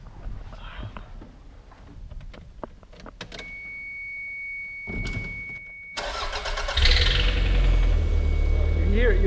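A 90's Japanese car with a suspected exhaust leak, heard through clicks and a whining starter before the engine fires and settles into a steady, slightly fluttering idle close by, with faint talk early on.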